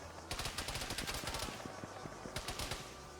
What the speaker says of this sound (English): We're getting shot at immediately by a coaxial of some sort.